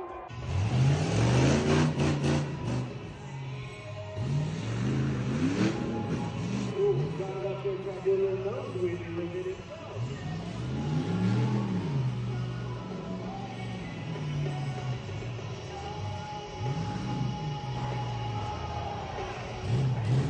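A Tuff Truck off-road truck at the Kern County Fair revs its engine in repeated rising and falling surges, loud and fairly close, while an announcer talks over the roar.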